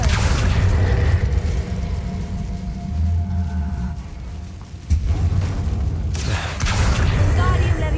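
A fire spell cast in Hogwarts Legacy, a loud, sustained roaring whoosh with heavy low rumble that dips briefly, then surges again and carries on to the end.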